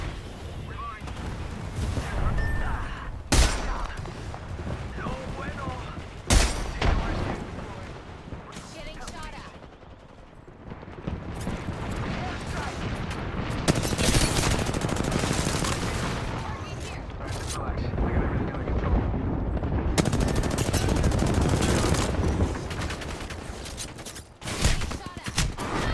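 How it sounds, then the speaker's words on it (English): Video-game gunfire in a squad firefight, with sharp shots and rapid automatic bursts and booms coming repeatedly throughout, loud and close, mixed with voices calling out over the shooting. "Firing."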